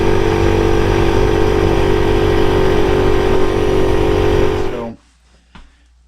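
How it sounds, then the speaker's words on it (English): A Tillotson 212 engine from a Mega Moto 212 mini bike runs loud and close with a steady buzzing, rough drone, then cuts off abruptly near the end, leaving near silence and one faint knock. "This is the engine that we had in the Moto 212 on the speed run and the off-road ride."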